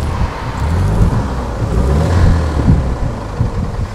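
A 1940s Rover 12 Tourer engine runs close by in a low, steady, rumbling idle with gentle pulsing swells, and nothing else is heard over it.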